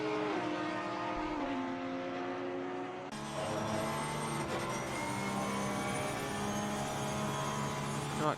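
Porsche and Audi race cars lap Silverstone in a six-hour endurance race, engines droning loud and steady with rising and falling pitch as they pass close, one car shifting gears midway.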